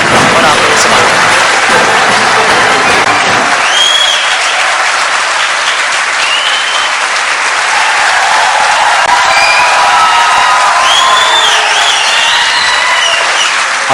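A large audience at a Pakistani gathering breaks into loud, sustained applause mixed with cheering. The clapping carries on thickly for the whole stretch, fuller and heavier at the start.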